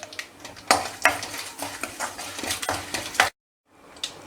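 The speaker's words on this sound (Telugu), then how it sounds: "ఇందులో పోపు దినుసులు వేస్తున్నాను. వీటిని కొద్దిగా ఫ్రై అవ్వనివ్వండి." Spices and curry leaves tempering in hot oil in a kadai, with clinks and scrapes of a ladle stirring against the pan over a soft sizzle, followed by a short silence and one more scrape.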